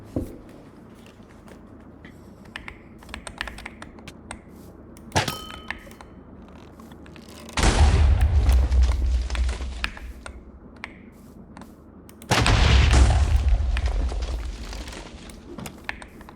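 Explosions in Minecraft set off during lucky block gameplay: two long, loud, roaring blasts burst out several seconds apart over a quieter background of clicks and taps from the game.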